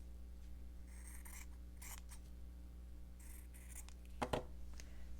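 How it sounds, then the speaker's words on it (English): Scissors cutting a small piece of fabric for a Christmas gingerbread house in a slow-stitching fabric book, a few faint snips over steady background hum, with one sharper close cut near the end. "I'll just cut a piece of that fabric."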